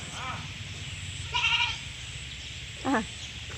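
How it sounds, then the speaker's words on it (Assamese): A goat bleats twice, short wavering calls spaced apart, fairly close, over a steady outdoor background of low rumble and faint voices. "আকৌ ছাগলী খেদিবলৈ গৈছা"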